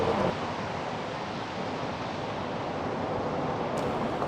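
Aloha Falls in the Columbia River Gorge gives a steady, broad rush of falling water mixed with gusting wind, an even and continuous roar throughout.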